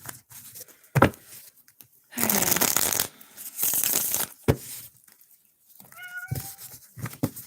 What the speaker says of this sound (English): My cat never meows, and now he's meowing.